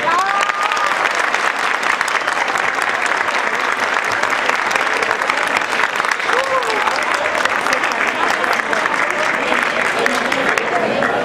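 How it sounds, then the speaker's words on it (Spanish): Theater audience giving warm, sustained applause at a bicentennial special show, a loud, dense roar of clapping that holds evenly throughout with crowd voices and occasional cheers blended in. "yo creo que ellos merecen un aplauso más caluroso"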